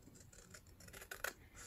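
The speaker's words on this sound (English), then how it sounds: "I'm gonna take my scissors." Scissors cut along score lines in a sheet of 12x12 paper for a DIY wallet and backpack, quick close snips and crisp paper rasps building to a sharp louder cut near the end, quiet with no talk.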